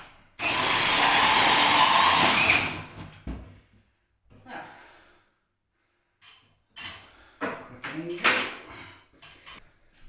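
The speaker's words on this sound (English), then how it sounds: "I'm going to go into the ensuite room next door first and drill another hole" A power drill whirs loudly for a couple of seconds, followed by scattered clunks and handling noises.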